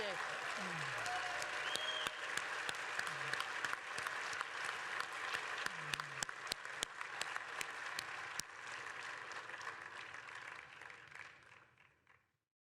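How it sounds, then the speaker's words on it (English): An audience at a space technology presentation breaks into applause, a steady, fairly distant crowd clapping that carries on for several seconds before fading out, with some talk and sharp taps mixed in. "Can we just get one more round of applause for that incredible technology?"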